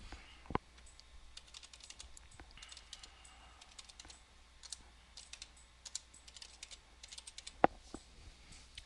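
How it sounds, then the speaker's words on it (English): Soft, quick keyboard typing on a computer, light clicks in uneven runs with a couple of sharper key taps, close and quiet in an otherwise still room. "we'll select our text tool and I'll type out some text."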